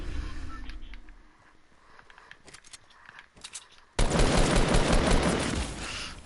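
A common assault rifle fires in Fortnite, first as scattered distant shots and then as a loud, dense, sustained burst of rapid gunfire close by.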